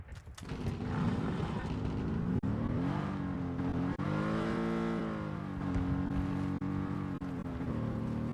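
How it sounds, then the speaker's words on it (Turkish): A car in PUBG starts up and drives off: a steady, loud engine drone that rises and falls in pitch as it revs, continuous throughout with no talking. "Şöyle çalıştıralım arabamızı."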